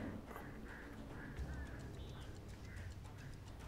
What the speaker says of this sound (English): I'm gonna have to run and hope the birds don't get me.